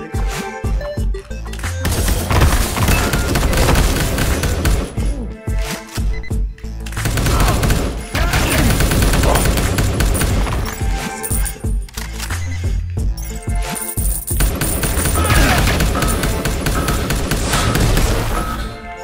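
Loud bursts of gunfire in the top-down shooter Jydge during local co-op play, heavy shooting broken by short pauses, with dense in-game effects and no talk over it.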